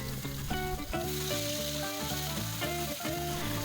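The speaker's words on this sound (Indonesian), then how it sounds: "Panaskan minyak secukupnya aja untuk menumis bumbu dan kita masukkan bumbu yang udah kita haluskan." Ground spice paste sautéing in hot oil in a home kitchen, a steady bright sizzle and crackle holding at an even level throughout, with no voices.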